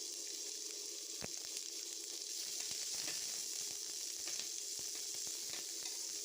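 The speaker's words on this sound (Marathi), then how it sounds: "कांदा भाजून घ्यायचा आहे." Chopped onion, garlic and green chillies sizzle in a little oil in a pan for a spicy bitter gourd dish, a steady close hiss with a few faint scrapes and clicks and no talking.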